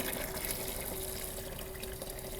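Rinse water running steadily from the outlet line of a Sweetspotter SS4-4-40V column, a continuous quiet wash of flowing water with no pauses or talk.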